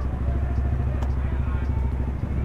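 A modified Honda Supra underbone motorcycle, the Supra Bapack V.2, runs close by with a loud, steady, rough engine rumble and a fast, even pulse, the sound continuous from start to finish.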